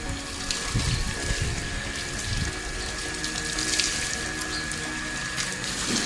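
Water runs steadily from a tap, a continuous splashing rush with a faint tonal whine underneath, close and unbroken throughout.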